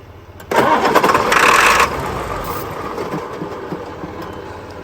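A vehicle engine cranks loudly and catches, then idles with a steady, slightly rough running rumble after a burst of high revving, close by with no speech, while starting fluid and gas pumping are used.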